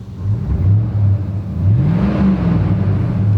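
Older GM truck engine with a modified exhaust, about 250,000 miles on it, revved up close by: a throaty idle rises into a climbing rev around the middle, then holds a loud steady drone, with no talk.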